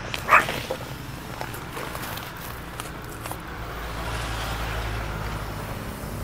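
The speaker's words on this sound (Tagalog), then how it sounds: "Ano ba yung tuta?" A puppy gives a single sharp, close bark near the start, followed by a steady low background rumble with no further barking.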